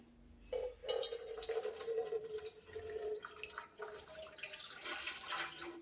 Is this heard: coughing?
no